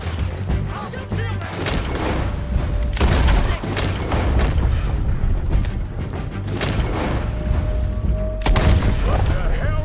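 Repeated loud gunshots from Red Dead Redemption 2 open-world combat, several heavy booming reports spaced irregularly through ten seconds, with voices shouting in between.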